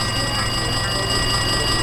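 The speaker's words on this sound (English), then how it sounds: "It looks like that phone is ringing." A telephone rings in the Danganronpa 2 video game, a steady electronic ringing tone that fills the clip over a constant low game background, with no talk.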